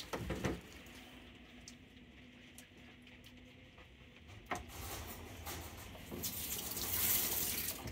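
Cold tap water runs steadily while a bear is washed of mud, a continuous close hiss and patter with a few brief splashes and knocks, swelling slightly louder near the end.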